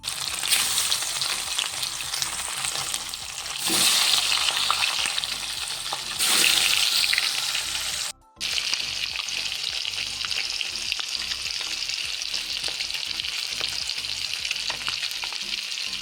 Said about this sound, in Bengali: এখন মাছগুলোকে খুব ভালো করে লাল করে ভেজে নেব।